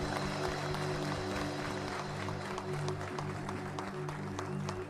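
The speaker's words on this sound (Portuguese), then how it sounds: "dá o maior aplauso que você já deu para Jesus" A church congregation applauds during a sermon, a fairly quiet, continuous patter of clapping layered over a steady organ-like sustained musical drone in the background.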